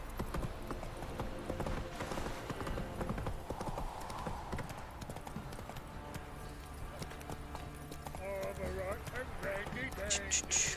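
Horse hooves clip-clop steadily through a town street in the video game The Witcher 3, a continuous trotting rhythm under game voices and ambient town noise.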